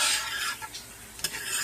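Onions sauteing in butter in a pan being stirred, a soft scraping and gentle sizzle with a couple of brief utensil clicks against the pan, close and fairly quiet.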